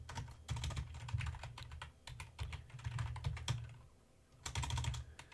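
Fingers type in quick, close bursts on a computer keyboard, with a steady patter of clicks and brief pauses between flurries and no talking.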